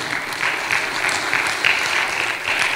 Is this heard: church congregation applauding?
yes